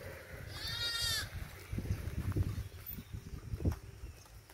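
A goat or sheep gives a loud, clear bleat near the start in a rural field where a shepherd's flock is penned on farmland, followed by softer shuffling and low livestock noises nearby.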